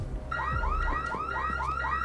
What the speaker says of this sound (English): The alarm should be going off right about now.